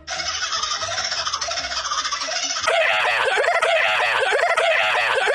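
A kookaburra's laughing call played back at double speed becomes a rapid, high chattering squeal like a cartoon dolphin, loud and continuous, growing busier and more frantic partway through.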